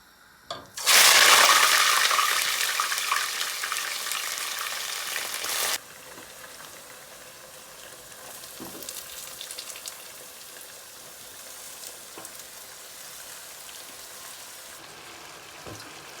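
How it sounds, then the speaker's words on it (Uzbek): Plov (osh) ingredients fry in a pot with a loud, bright hiss of oil that bursts up and roars for several seconds, then drops to a quieter, steady bubbling sizzle. "Oshimni qovurib oldim."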